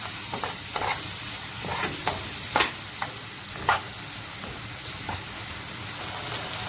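Salt, black pepper and seven-spice sautéing in a pan with a steady, close sizzle, broken by sharp scraping clicks of stirring at irregular intervals.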